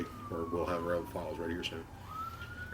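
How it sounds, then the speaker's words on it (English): An emergency vehicle siren wails in the background at the SEMA Show 2024, sliding down then rising again, while a person talks over it. "I'm sorry about the siren."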